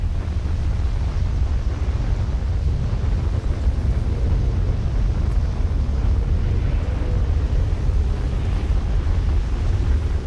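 Strong wind near a tornado roars as a dense, continuous low rumble and buffeting against the microphone, loud and unbroken throughout.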